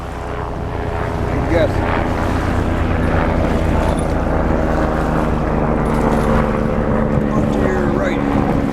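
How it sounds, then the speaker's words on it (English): A medevac helicopter passes with a loud, steady engine and rotor drone that fills the scene while people talk over it. "where's that helicopter at? Is that a medvac?"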